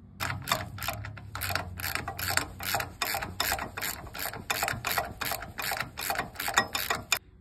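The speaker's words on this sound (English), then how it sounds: "All you need to install this is a ratchet with a 9/16 socket and remove the front bolt" A hand ratchet with a 9/16 socket works a front bolt loose on an RV, giving a steady run of close, sharp clicking bursts in quick rhythm, alone without talk.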